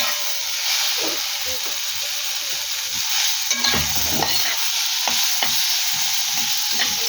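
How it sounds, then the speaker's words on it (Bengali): Eggplant and leafy greens sizzle loudly in a hot pan as water hits them, giving a steady broad hiss with occasional stirring scrapes and sputters throughout. "এবার জলটা দিয়ে দিই।"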